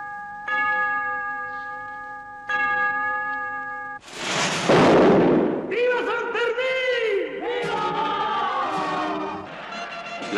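Firework rocket bursts at the opening of the San Fermín festival in Pamplona, 1966: a loud broadband blast around the middle, following sustained tonal music, then cheering crowd and horn-like tones filling the street.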